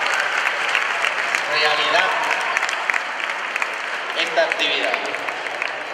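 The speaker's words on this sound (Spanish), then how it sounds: "Que se oye ese aplauso a todos ellos" An audience at an elementary school excellence awards ceremony applauds academic excellence tutors, steady crowd clapping of moderate loudness running throughout, with a voice speaking over it at times.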